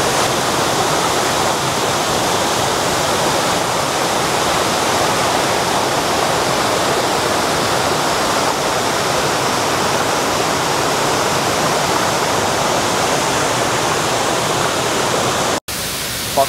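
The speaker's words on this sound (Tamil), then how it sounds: "பாருங்க எவ்வளவு தூரம் தண்ணி விழுதுன்னு" A waterfall on a hillside road near Thandikudi, on the way to Kodaikanal, gives a loud, steady roar of falling water that goes on unbroken and ends sharply near the close.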